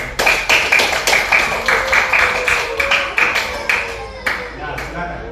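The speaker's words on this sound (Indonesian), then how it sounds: "berikan tepuk tangan untuk Eca dulu" Small classroom group clapping for a student, a quick burst of rhythmic claps that fades out toward the end, close and fairly loud, with voices mixed in.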